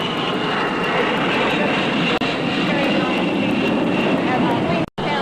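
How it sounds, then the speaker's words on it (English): A jet airliner passes low overhead near an airport, a loud sustained roaring wash that holds steady across the whole stretch, with a brief dropout near the end. "As the planes pass over, it's continual, it's around the clock."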